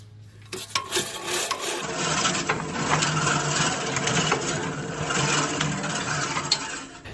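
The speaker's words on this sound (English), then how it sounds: "It is a rotary lawnmower that I got for free from a client." A rotary lawnmower engine runs steadily with a raspy, buzzing drone, starting after a few brief knocks and holding an even level throughout.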